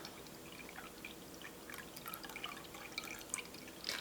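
Whey drained from homemade yogurt being poured into sourdough dough, a faint, soft trickle with light scattered drips at low volume.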